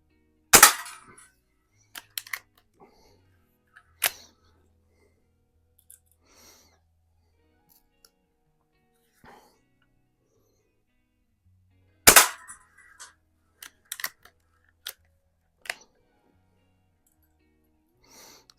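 An antique 1892 Markham King BB gun fires a few sharp, isolated cracks spaced several seconds apart, each loud and brief against near silence, with faint handling clicks between shots.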